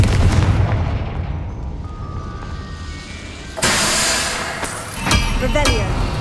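A Confringo blasting spell in Hogwarts Legacy. A fiery burst cracks loudly midway, followed by a second sharp hit and crackling debris, over game ambience and a spoken incantation.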